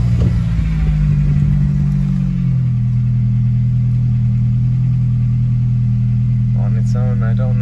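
A Honda Civic Type R EP3 engine hunting at idle, a close, loud low rumble whose pitch dips and settles unevenly, with a faint voice near the end.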